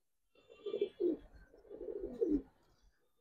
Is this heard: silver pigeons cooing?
yes